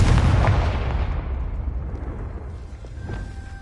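The Confringo spell in a wizard video game sets off a loud, booming explosion that rumbles and slowly fades into a long low tail, with no talking over it.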